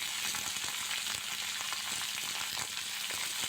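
Thinly sliced potatoes and sweet pumpkin fry in a pan with a steady, even sizzle and light crackle close by, a constant hiss with small pops and no talking.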